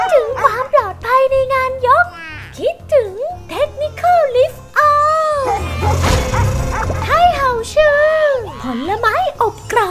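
A small dog yips and barks repeatedly in short bursts close by, mixed with whimpers and high-pitched voices talking and a brief louder noisy stretch midway.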